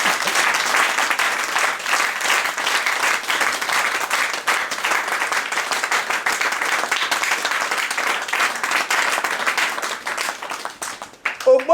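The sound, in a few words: audience applause at ceremony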